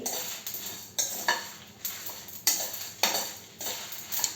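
Red chillies roast in a pan without oil, heard as a regular series of scraping stirs, roughly every half second, close and fairly clear.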